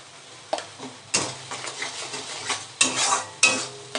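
Ground spice masala with salt sautés in a pan, a low sizzle under several sharp stirring and scraping strokes that come in irregular bursts.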